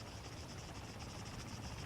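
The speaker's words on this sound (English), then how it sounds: "Helicopters." Military helicopter in the video game Arma 3, a steady broadband rotor and engine roar with a faint pulsing chop, continuous and fairly close throughout with no speech.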